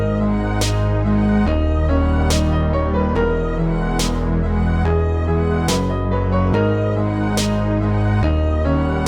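A full trap beat plays alone with every layer together: loud, steady booming bass notes, crisp snare hits landing at regular intervals and sustained melodic tones looping throughout.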